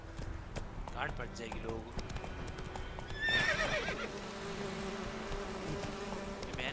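Roach, the horse in the video game Witcher 3, clops along at a steady gallop and lets out a whinny partway through, under someone talking and a faint buzzing of insects.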